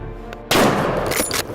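Rifle shot on a driven wild boar hunt, a single loud close blast followed by a sustained rumbling echo outdoors.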